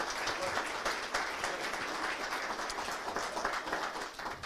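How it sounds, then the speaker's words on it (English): Audience applause for volunteers at a regional tourism conference, a continuous, fairly soft and distant wash of clapping. "I think we should ask for a round of applause"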